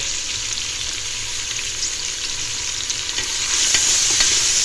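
Chopped onions sizzling and frying in a pan for fish biryani, a steady close crackle with light stirring scrapes throughout, growing slightly louder toward the end, with no talking.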